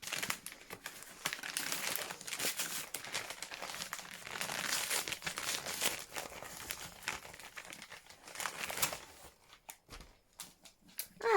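Packaging on received book parcels crinkles and rustles as it is pulled open, a busy close run of crackling, tearing and handling noises, easing into sparser clicks and rustles near the end.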